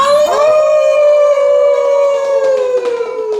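A long, loud, wavering howl from a human voice, imitating a dog, sustained and slowly falling in pitch.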